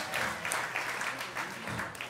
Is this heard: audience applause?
yes